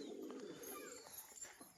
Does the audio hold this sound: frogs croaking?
no